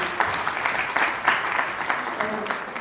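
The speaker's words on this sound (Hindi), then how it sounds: "तो एक बार अपने लिए जोरदार तालियां आप बजा दीजिए।" Applause from an audience at a women's awards and summit event, a dense wash of clapping with rising and falling bursts, close and steady, with a voice faintly underneath.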